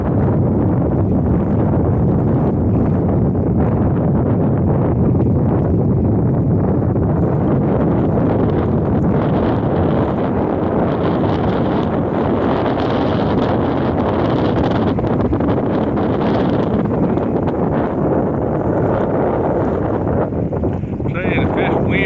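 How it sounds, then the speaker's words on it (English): Strong gusty wind buffets an outdoor microphone at a red sunset on a warm, high-wind Christmas Eve, a loud continuous roar throughout with a voice speaking under it. "Yeah, I can't hold it steady because it's so windy."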